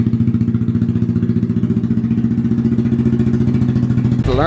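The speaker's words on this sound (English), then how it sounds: "This exhaust sounds so good." A small motorcycle, a Grom or similar, idles and revs through its aftermarket exhaust with a steady loud, close burble and a rhythmic low pulse, then cuts off abruptly near the end.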